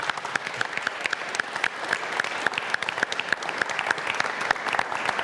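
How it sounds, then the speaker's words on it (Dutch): Audience applause at a Dutch award ceremony, with dense, steady clapping from a sizable crowd running throughout at an even level and no talk over it. "Kijk, dat verdient toch een applaus"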